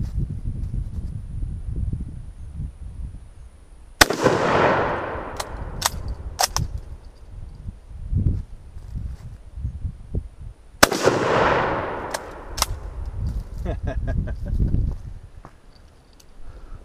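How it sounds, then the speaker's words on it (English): Two sharp, loud rifle shots from a .303 No1Mk3 rifle converted to a jungle carbine, several seconds apart, each with a long echoing decay outdoors, plus faint clicks and handling noise between them. "now that I've fired a couple of rounds through this thing"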